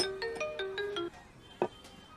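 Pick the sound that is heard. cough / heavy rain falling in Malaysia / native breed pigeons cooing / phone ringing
phone ringing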